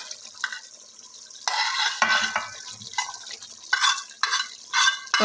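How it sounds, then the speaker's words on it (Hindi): Fried onion tempering being stirred into cooked chicken for chicken dopyaza, giving repeated scraping stir strokes with light sizzling and pot clatter, close and fairly loud, with no talking. "अब इसमें ये बघार लगाया हुआ तड़का डाल देंगे।"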